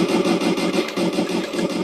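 A toy RC M1A2 Abrams tank plays its electronic engine sound effect, a loud, close, continuous buzzing rumble with a slight pulsing throb and no talk.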